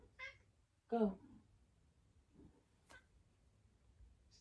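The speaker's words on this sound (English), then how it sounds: "Hello, cat." A house cat meows a few short times indoors, quiet and close, with people talking nearby between the calls.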